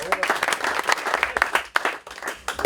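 Team staff of the French national rugby squad applaud a newly capped player with close, lively clapping; voices mix in with the applause.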